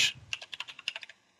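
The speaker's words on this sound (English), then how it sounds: "I'm just going to type in Mesh" Quick bursts of keystrokes on a computer keyboard, about a dozen crisp, close clicks in an uneven run before stopping.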